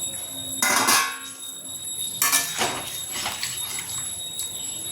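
Metal lid set onto a pot of chicken curry with potatoes and fried eggs on a home stove, two bright clanging clatters about a second apart, close and fairly loud, ringing briefly.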